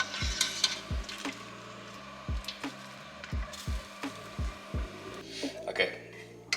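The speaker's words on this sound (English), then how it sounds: "we're gonna use our tongs right here, and we are gonna mix everything in nicely" Tongs clack and scrape in a rhythmic series of sharp knocks as pasta is tossed into tomato sauce in a pan, with soft wet sloshing and a low sizzle between strokes.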